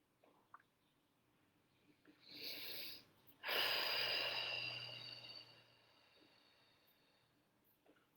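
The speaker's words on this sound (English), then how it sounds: "let's just close our eyes and just take some deep breaths" A person breathes deeply during a relaxation exercise: one slow inhale followed by a longer, fuller exhale, soft and close in an otherwise quiet room.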